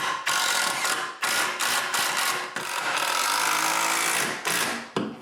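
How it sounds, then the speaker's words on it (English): Power screwdriver driving screws to fix a bathroom towel cabinet base in place, several loud whirring bursts separated by short pauses, close and alone. "I begin by screwing the base in place."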